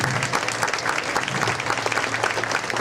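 A seated audience at a Juneteenth community program gives a board member a round of applause, many hands clapping in an even, moderately loud stretch.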